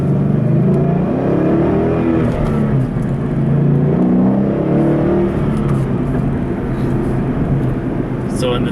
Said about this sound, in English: in this car you've got the big 5-liter V8 making a lot of noise and a lot of power